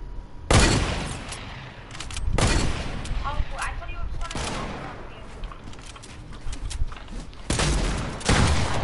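Gunfire in a shooting video game: several loud, sharp bursts of shots spread across the stretch, with a constant game-sound bed between them.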